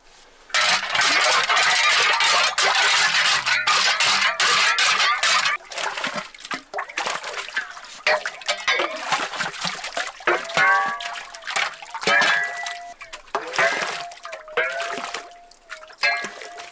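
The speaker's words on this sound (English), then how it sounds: "we're gonna get this thing stirred up, get the flowing well flowing the way it's supposed to" Water being stirred with stones inside a crock flowing well in a northern Michigan forest, a loud churning slosh and splash for several seconds, then quieter trickling and dribbling with scattered knocks.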